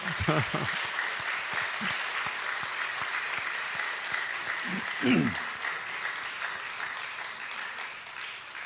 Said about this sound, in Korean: 박수 더 보내야 되겠는데.